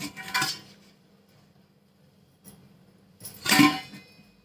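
A utensil scraping and clinking against a bowl as flour with ajwain is mixed for masala bhakri, two short bursts of stirring separated by a quiet pause, close and moderately loud.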